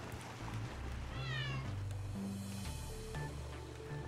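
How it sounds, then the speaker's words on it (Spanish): A cartoon cat meows in the colorful platform video game Boti Byteland, several short rising and falling meows heard up close over steady game music, with no voices. "¿Esto es un gato?"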